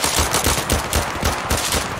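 Rapid automatic gunfire in the shooter game Zero Caliber, loud bursts of close shots in a quick steady rhythm with no talk.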